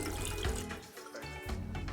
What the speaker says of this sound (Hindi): ऐड करूंगी इसमें 1 कप पानी